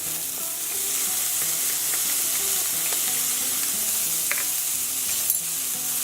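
Ginger hits a hot pan for a steak and peppers stir-fry, giving a continuous close sizzle with a few light stirring clicks and no talking.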